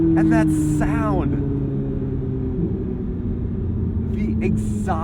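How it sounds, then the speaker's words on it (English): A deep, steady flat-plane V8 engine rumble from a 2023 Chevrolet Corvette Z06 drones close by, with a person talking briefly over it at the start and again near the end. "the exotic soundtrack of a flat plane V8 here in an American muscle car"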